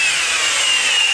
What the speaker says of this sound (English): turn this one here back over to drill mode, and drive that one into the plug